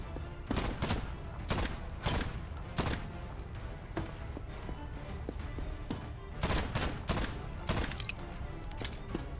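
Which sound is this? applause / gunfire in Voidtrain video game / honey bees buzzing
gunfire in Voidtrain video game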